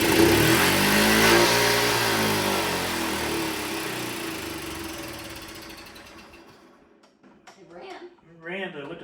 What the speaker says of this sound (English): Ran, but it went to full throttle.